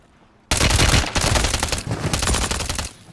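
A Striker gun fires in the Warzone video game, starting with a sudden loud burst after a quiet moment. Rapid shots follow in dense volleys for about two and a half seconds, then cut off.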